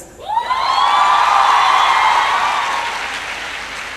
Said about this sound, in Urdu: اور یہ تالیاں جو ہے نا وہ لڑکوں کی طرف سے زیادہ بجنی چاہیے